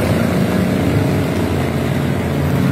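A steady, loud engine drone with churning water noise, as of a motorcycle pushing along a road turned into a river by floodwater, continuous and close with no talk.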